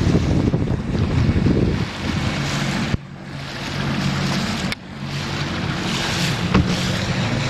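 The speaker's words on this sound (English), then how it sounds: "You can see that 40 Suzuki is very quiet." A Suzuki 40 outboard motor runs quietly on a boat on Lake Tarpon, a steady low hum under constant wind and water noise, with a couple of short bumps along the way.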